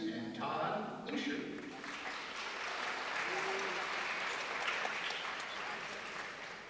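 A basketball crowd in a gym at a girls' game applauds the officials: sustained, fairly loud clapping that fills the hall, with a voice briefly audible at the start.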